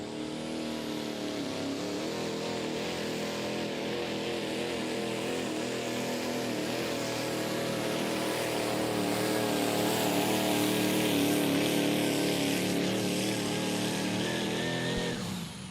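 Heavy International truck engine roaring steadily throughout a county fair truck pull in Ogle County, Oregon, Illinois, loud and sustained with a slight swell near the end, no talk over it.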